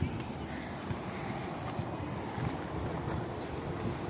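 Wind buffets the microphone with a constant rough, low rush, steady and close throughout.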